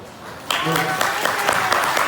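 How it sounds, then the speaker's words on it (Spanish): A lecture audience bursts into applause after a short moment of quiet, with scattered, uneven claps building quickly and continuing through to the end. "un aplauso para usted"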